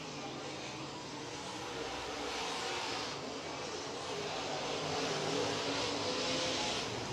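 Modified race cars circling an oval track in a heat race, a steady distant engine roar blending with crowd ambience, with a commentator's voice faintly under the noise.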